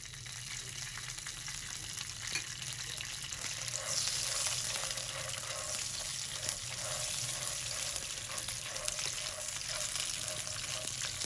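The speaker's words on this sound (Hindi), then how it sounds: "इसलिए हम पहले घी के बिना इनको 2-1 मिनट भूनेंगे, फिर इसके बाद हम घी डालेंगे।" Panjiri ingredients roasting in ghee in a pan give a steady, even sizzle that continues without a break, close by and moderately quiet, with faint crackles scattered through it.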